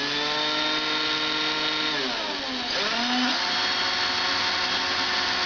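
Electric drill boring a hole through the metal plate of a Naruto headband, backed by a piece of wood, a steady close whine that dips in pitch partway through as the bit bites, then picks back up.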